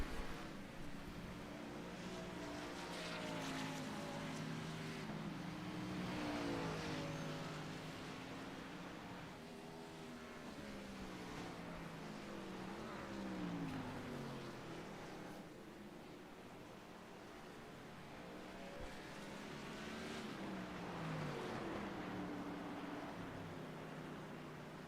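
Race cars lap the Fuji circuit in an Inspired Cup Series race, one of them smoking, their engines rising and falling in long pitch sweeps as they pass at a distance under a steady wash of noise.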